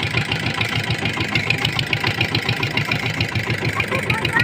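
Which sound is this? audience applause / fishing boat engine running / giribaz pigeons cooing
fishing boat engine running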